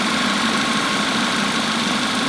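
An Audi engine idles smoothly after a repair, giving a steady, dense hum and whir with no change in level across the whole clip, heard alone without talk.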